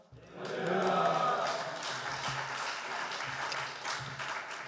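A church congregation claps together to welcome the pastor at a men's mission officers' prayer meeting, a broad, steady wash of applause that swells quickly and holds through the whole stretch.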